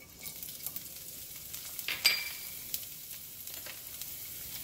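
Scallion whites sizzling in hot oil in a pan for a bourbon chicken stir fry, a steady crackling hiss with a few sharper pops and stirring clinks, alone and close.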